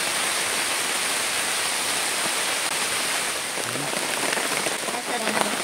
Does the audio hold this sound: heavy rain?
yes